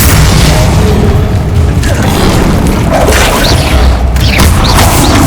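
The Bombardo spell in Hogwarts Legacy lands as a loud, booming blast amid continuous heavy combat noise, with deep rumbling and crashes filling the whole stretch.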